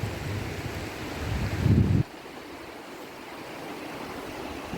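The Tisa river flows in the mountains of Zakarpattia, a steady broadband rush of running water with wind buffeting the microphone, louder in the first two seconds, then settling into a softer continuous wash.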